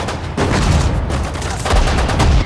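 Gunfire from World War II infantry in the strategy game Sudden Strike 4, set at Lille in May 1940: a dense, continuous rattle of shots with heavier bursts near the start and end, no talk.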